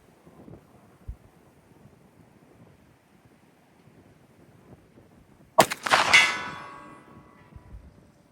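A single loud gunshot from 124-grain purchased ammunition fired at a left-hand target outdoors, a sharp crack followed by a decaying ringing tail over quiet wind noise.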